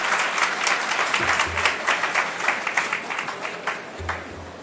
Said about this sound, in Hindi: पुनः एक बार तालियां बजा दीजिए उन सब के लिए जिन्हें आज लाभ मिला